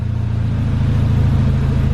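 A Renault Megane RS250 engine runs with a steady, even low hum and rumble that stays constant throughout this short stretch, close and loud with no talking.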